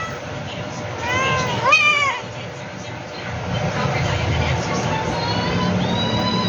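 Small, high-pitched kitten meows sound up close, a few in quick succession, over a low background rumble with voices talking nearby.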